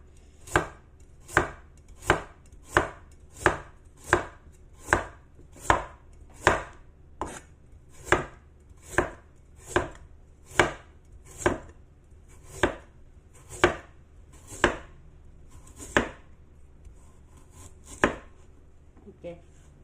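A knife chops carrots on a cutting board in about twenty crisp, evenly spaced strokes, loud and close, slowing slightly near the end, with no talking.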